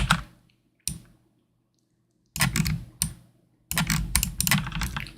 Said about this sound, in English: I mean, to be fair, I do really like the mechanical keyboards.